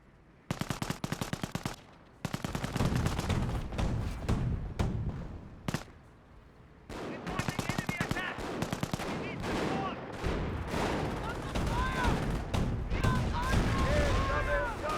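Gunfire from German grenadier squads in the World War II strategy game Company of Heroes: dense, rapid rattling bursts and volleys, loud and sustained, broken by a couple of brief lulls.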